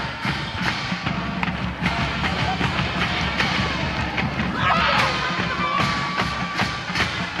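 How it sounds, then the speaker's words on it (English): A high school football crowd at Swinehart roars after a touchdown pass in Eisenhower vs. Chippewa Valley, a dense, sustained cheer with scattered claps and thumps, a whistle sounding midway, and voices mixed in. "that touchdown pass, probably the loudest we've heard this Swinehart crowd here tonight"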